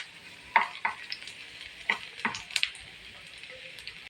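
Garlic and onion frying in a pan for a simple home recipe, a soft steady sizzle under a few sharp stirring scrapes and clinks of a utensil against the pan, close by, with no talking.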